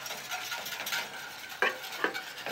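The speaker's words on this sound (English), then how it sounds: "I can go directly into the hot liquid. This is cold, this is hot, and I will whisk it in" A whisk stirring a cold mixture into hot liquid in a pan, producing a steady soft scraping swirl with a faint sizzle and two brighter clicks of the whisk against the metal.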